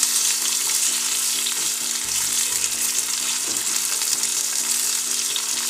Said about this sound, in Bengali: দিয়ে এটাকে একটু নাড়াচাড়া করব, নেড়ে দেব।